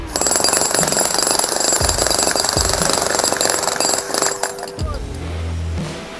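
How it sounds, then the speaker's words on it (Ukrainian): A Dnipro-M jackhammer runs after a drop crash test, hammering loudly and continuously for about four seconds before stopping, with lower rumbling tones trailing at the end. "Це все той самий відбійний молоток."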